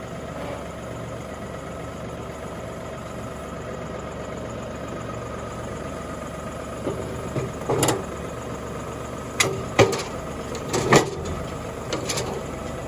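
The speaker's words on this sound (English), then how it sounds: "let's back the LS tractor up here" Steady low idle of an LS tractor engine runs throughout, with a few sharp knocks and clunks toward the end as a flail mower is hitched.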